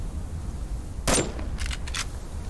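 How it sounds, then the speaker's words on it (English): Shotgun fire in the survival video game Subsistence, heard as one sharp, fairly loud blast followed about half a second later by a second, quicker burst of reports over a low background rumble. "I was thinking about doing one shotgun shot, but then I decided to do two"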